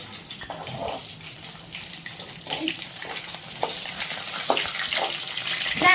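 Dishes washed in a home kitchen under a running tap, water splashing and hissing steadily with light clinks of utensils, growing a little louder toward the end, no clear talk.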